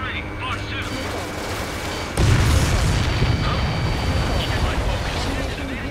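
A missile launch and explosion in the fighter-jet game Ace Combat 7: a sudden heavy boom bursts in partway through and rolls on loudly over a constant roaring engine drone.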